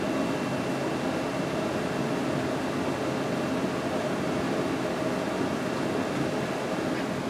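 A solar-powered attic fan runs at 2,000 CFM, giving a steady, broadband airflow whoosh with a low mechanical hum. The sound holds at an even level throughout, with no speech over it.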